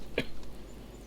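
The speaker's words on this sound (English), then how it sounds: "That's a better cough because it's a real cough." A character in the video game At Winter's End gives a single short cough, a brief sharp burst near the start followed by quiet background.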